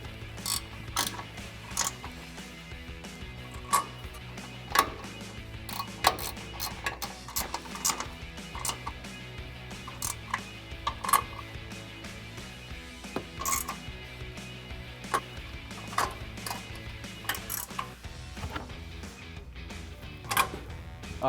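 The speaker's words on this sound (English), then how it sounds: "now we can tighten the rear two first with our 14mm ratcheting wrench" A 14mm ratcheting wrench tightens the top mount bolts on a 2024-2026 Toyota Tacoma's Eibach Pro-Truck coil-over, making repeated rapid pawl clicks in irregular bursts, close and fairly crisp, with small metallic knocks between strokes.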